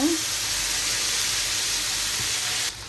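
Lentils drop into hot oil and sizzle at once, a loud, steady, close hiss that holds evenly for a few seconds before cutting back slightly at the end.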